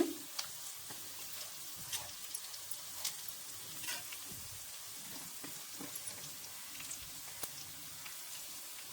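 Onions frying in a pan to a light golden colour, giving a soft, steady sizzle with scattered crackles and occasional quiet stirring.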